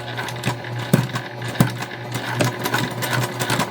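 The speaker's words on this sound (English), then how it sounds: "We're going to sew this together at a 1/4 inch seam allowance." A sewing machine stitches a tiny fabric tote at a quarter-inch seam allowance, its needle running in steady bursts with sharp repeated clicks, close and clear with no talking.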